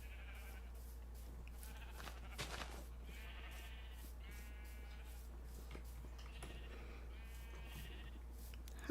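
Minecraft sheep bleat several times in short, repeated calls, faint and distant over a low steady hum.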